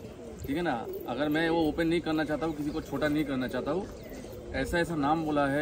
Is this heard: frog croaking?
no